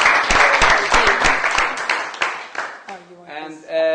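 An audience at a climate change adaptation panel applauds loudly with dense clapping for about two seconds, which thins out and fades, followed by a voice starting to speak.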